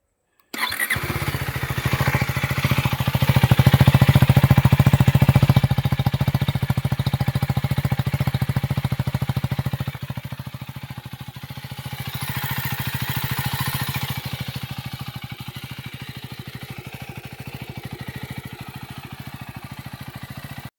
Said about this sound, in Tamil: இதோட ஐடல் கேட்டுருவோமா.